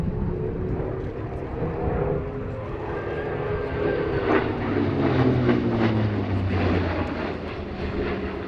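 A Hawker Sea Fury propeller fighter flies at Duxford, its loud piston engine growling and shifting in pitch as it passes, with no one speaking over it.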